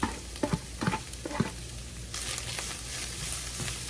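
Onions, garlic and chile sauté in a little oil, crackling under a continuous sizzle, with several sharp spoon scrapes and knocks against the pan early on.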